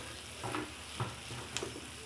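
Small fish, heads left on, stirred gently in a pan over low heat, giving faint soft scrapes and a quiet sizzle in short, sparse touches.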